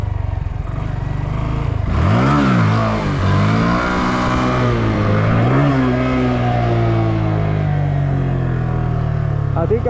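Motorcycle revving while held up on its rear wheel in a parking lot, a loud close engine rising and falling in repeated swells, throttle blips sweeping up and down over a continuous roar.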